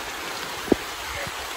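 Rain falls in the Amazon forest interior as a steady close hiss, with a single brief knock partway through.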